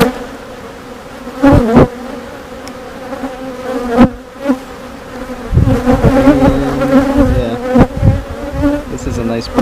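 Honeybees buzz close around an open hive during an inspection, a dense steady hum with individual bees droning past the microphone and a few sharp knocks of frames being handled.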